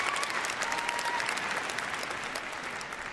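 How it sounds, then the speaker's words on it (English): Steady applause from an indoor audience at the Crufts dog show during a gundog demonstration, a dense continuous clapping that holds evenly throughout and fades slightly at the end. "Give her a big round of applause"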